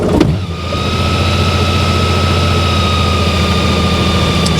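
A motorcycle engine is switched on, with a brief click and start-up burst followed by a steady, close idle hum with a high whine that holds evenly to the end.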